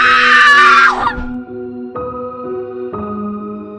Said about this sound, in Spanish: un grito desgarrador se escuchó en el interior de su casa